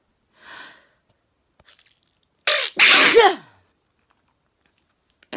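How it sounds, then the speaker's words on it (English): A person sneezes close up, a sharp burst followed by a second louder sneeze in a quiet room, with a faint breath or sniff just before. "I started sneezing again."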